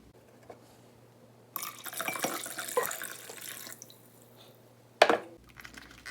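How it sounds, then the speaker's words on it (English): Warm water pours steadily into a blender jar for about two seconds, then stops; a brief clatter follows near the end. "I'm going to pour 4 cups into my blender"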